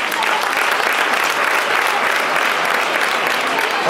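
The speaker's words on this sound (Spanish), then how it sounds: "Un aplauso." Applause from an audience at a youth football school and club presentation, a dense, steady roar of many hands clapping evenly throughout, loud and continuous with no talk over it.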